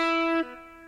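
A guitar sounds a single sustained note bent upward, the pitch sliding up smoothly partway through, then ringing on more quietly as it fades.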